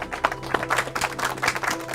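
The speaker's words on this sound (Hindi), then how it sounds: "ताली बजाइए।" Small group of people clapping in a village council gathering, a quick burst of scattered, uneven claps close by at moderate loudness.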